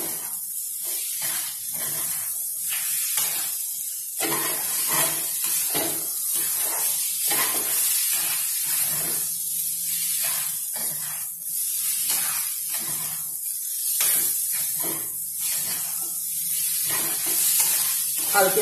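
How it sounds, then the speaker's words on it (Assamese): Daliya (broken wheat) pulao with peas sizzles steadily in a pan, with repeated scraping stirs of the spoon throughout, close and continuous with no talk. "ভালকে ভাজক।"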